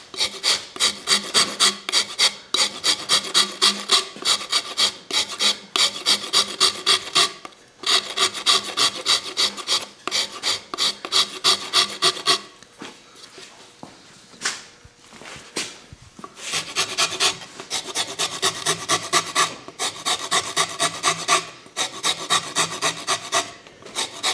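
Rapid, rhythmic rasping strokes of a file or rasp rounding over a wooden guitar headstock repeat in bursts, with a brief quieter pause midway before the scraping resumes.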